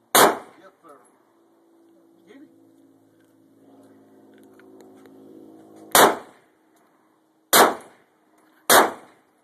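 M4 rifle shots at an outdoor firing range: one sharp, loud report, then a quiet stretch with a low hum, then three more cracking shots in quicker succession.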